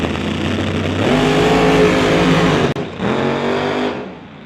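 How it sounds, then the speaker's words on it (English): A drag racing Camaro engine holding and building boost at the start line, a loud steady drone that swells, breaks briefly near the end, then carries on close and unbroken. "You can hear him building up the boost and trying to hold that thing back as he trips on that bottom bulb."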